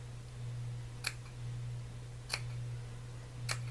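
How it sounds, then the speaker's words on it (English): Scissors snip through a ribbon on a felt pouch, three crisp, quiet cuts evenly spaced about a second apart against a steady low hum, with no talking. "I'm just going to cut my ribbon and maybe cut this in an angle too"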